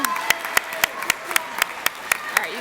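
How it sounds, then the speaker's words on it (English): Applause for a group of 8th graders at a middle school awards ceremony, steady clapping with sharp, evenly spaced louder claps standing out above a softer crowd patter. "let's give this first group a round of applause."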